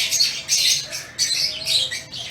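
Various birds in a café give repeated bright chirps and squawks in short bursts with brief pauses between them. They are fairly close and clear, with no talk.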